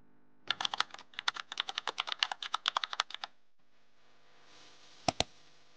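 Quick, crisp keystrokes clatter on a computer keyboard in a fast burst of about two dozen presses, then a pause and two final taps.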